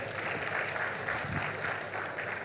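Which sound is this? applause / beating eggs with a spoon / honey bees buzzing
applause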